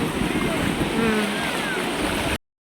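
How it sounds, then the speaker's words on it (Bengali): Rough, churning sea surf at a beach on a rainy, windy day, a loud continuous rush of breaking water with wind buffeting the microphone, cutting off abruptly near the end. "সমুদ্র ভীষণভাবে উত্তাল হচ্ছে"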